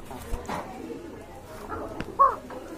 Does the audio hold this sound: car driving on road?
no